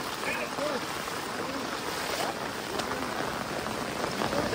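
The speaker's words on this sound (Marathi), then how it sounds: "हा आलब्या पाऊसच आहे." Steady rain pours down in a village during monsoon flooding beside a swollen stream, a dense continuous hiss with scattered drops close by, no voices.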